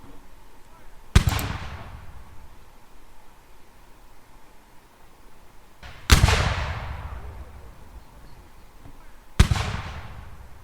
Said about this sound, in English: British fire upon German trenches.